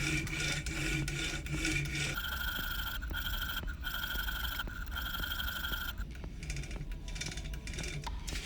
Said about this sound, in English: switching to the file and stones for the finishing cuts makes it much easier to generate a cylindrical feature